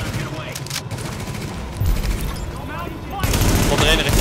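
Bursts of rapid gunfire from The Division video game crackle steadily throughout, with heavier volleys near the end, while players talk over the shooting.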